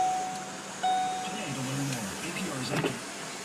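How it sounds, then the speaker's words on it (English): Electric sunroof of a 2013 Ford Focus closing, a soft motor whir with a chime at the start and a person speaking over it inside the car. "I'll shut the sunroof too."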